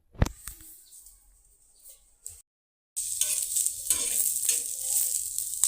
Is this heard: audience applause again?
no